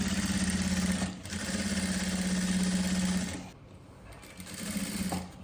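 A sewing machine stitches a young girl's salwar, running in a steady rapid mechanical chatter for about three seconds, stopping, then resuming more softly near the end. No one speaks.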